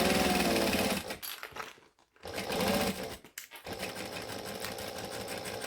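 A sewing machine stitching steadily across fabric toward a seam, its fast whirring run stopping briefly twice before resuming, close and loud with no talking.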